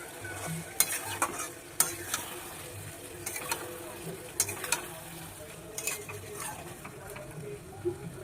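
Raw fish goes into a hot pan while cooking festival dishes at home, frying and sizzling steadily as a spatula scrapes and stirs in sharp irregular clacks close by.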